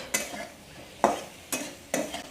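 A spoon scrapes and stirs tomatoes into spices frying in a pan for a Bengali banana-blossom curry, making four sharp stirring strokes with a soft sizzle in between, close and alone.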